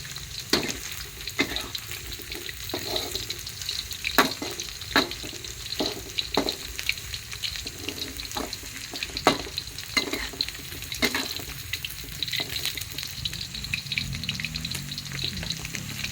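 Sun-dried beef fries in hot oil, a dense close sizzle punctuated by repeated sharp stirring knocks and scrapes, with no one talking.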